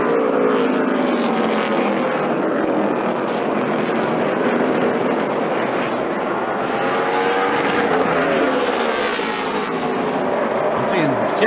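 NASCAR stock cars roaring around Martinsville on the final laps, a dense continuous engine drone with pitch sweeps as cars pass, loud and sustained throughout.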